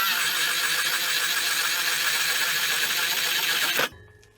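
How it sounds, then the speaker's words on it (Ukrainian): A cordless drill bores with a 35 mm Forstner bit on second speed, giving a steady loud whine for nearly four seconds before stopping abruptly and winding down. "35-й форснер, друга швидкість"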